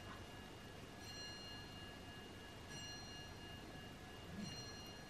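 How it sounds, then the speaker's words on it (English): A grandfather clock chimes indoors in a quiet home, its bell tones ringing out in a few steady strikes at moderate distance over low room hum. "That's the first time I've heard the grandfather clock actually chiming."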